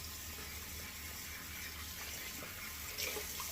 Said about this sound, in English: a lot of times I just add water, warm water to the soap